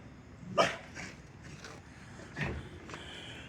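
A chained dog outdoors gives a few sharp barks and yips, one louder bark early on and a couple of fainter ones later, against quiet background noise.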